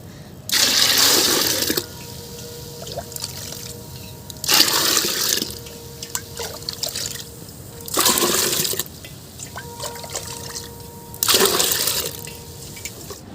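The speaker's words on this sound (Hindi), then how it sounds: "इसमें हम 10 भाग पानी मिलाएंगे" Water gushes loudly into a container in four separate pours, about ten parts water, to dilute a homemade plant solution. Each pour lasts a second or so, with quieter gaps between them and no speech.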